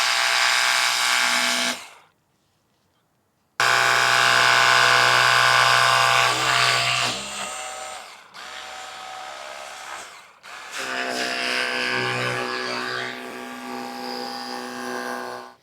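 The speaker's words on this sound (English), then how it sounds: "you can see I hit it with the pressure washer" A Ryobi One+ cordless pressure washer spraying at a vehicle's bug-spattered front, a loud steady high-pressure hiss and motor whine in long bursts, cut off by a couple of sudden pauses before restarting.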